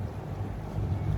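Wind gusting outdoors against the microphone, a low buffeting rumble that grows slightly stronger toward the end of a short stretch.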